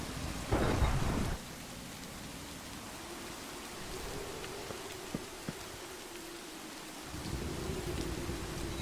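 Minecraft thunderstorm with rain: a rumbling thunder burst near the start, then a steady wash of rainfall, with a heavier roll of rain returning toward the end.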